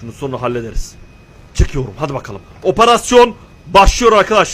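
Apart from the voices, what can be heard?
No everyday noises stand out.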